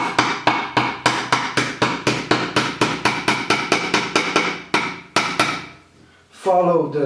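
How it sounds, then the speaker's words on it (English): A small hammer taps along a sheet metal seam clamped in a vise, a rapid, even series of sharp metallic knocks close by, pausing briefly before a few final taps. "then you take the small hammer"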